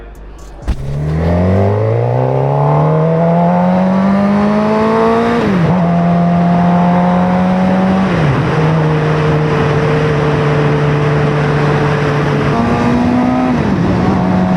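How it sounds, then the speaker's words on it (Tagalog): A vintage truck drives past in Edmonton, Alberta, its loud engine note rising and falling through several gear changes as it accelerates away, heard up close and on its own. "Vintage truck eh, no?"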